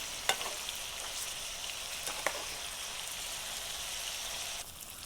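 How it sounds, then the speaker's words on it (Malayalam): Chicken pieces frying in hot oil in a pan for a coconut-milk chicken curry, giving a steady close sizzle with a few sharp crackles and pops, no talking. "എല്ലാ ചിക്കനും നമ്മുടെ നല്ലതായിട്ട് ഫ്രൈ ചെയ്തെടുത്തു"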